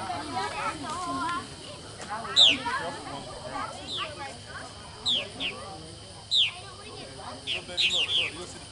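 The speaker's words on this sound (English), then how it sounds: "Look at these birds, they're so beautiful." Birds call outdoors in open country, with scattered short high chirps and whistles over a steady hiss of background ambience, some moderately near and others farther off.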